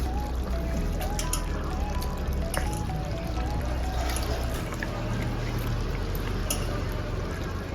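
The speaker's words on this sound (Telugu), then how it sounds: "ఇప్పుడు కొంచెం కొత్తిమీర వాష్ చేసుకొని" Fresh coriander leaves rinsed in water while cooking a bottle gourd curry, with a steady wash of pouring and dripping water and faint splashes close by, and no talk.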